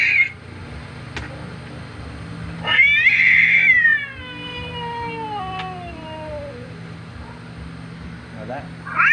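A cat lets out a long, drawn-out meow that bends down in pitch, with brief fainter cat sounds near the start and end in a quiet room.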